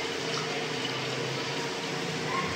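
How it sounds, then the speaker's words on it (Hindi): Milk, one litre of it, poured into a pot for a Ramadan drink: a steady, close liquid pouring and filling sound that runs unbroken with no talk. "1 लीटर दूध जाएगा इसके अंदर"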